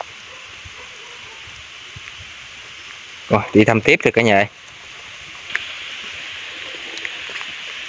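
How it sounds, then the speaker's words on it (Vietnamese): Heavy rain pours steadily outdoors in the countryside with a broad, constant hiss, while someone speaks briefly over it. "Mưa lớn lên luôn rồi."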